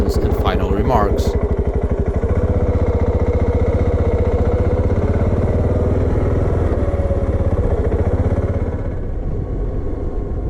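A Voge 650 DSX motorcycle engine pulls steadily at highway speed on a Portuguese motorway, a loud, constant throbbing drone with wind rush that eases slightly near the end; a few brief clicks appear early on.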